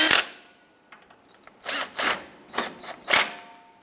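A power tool tightens bolts on a Jeep Wrangler: several short, whirring bursts come one after another with small gaps between them, close by and moderately loud in an otherwise quiet space.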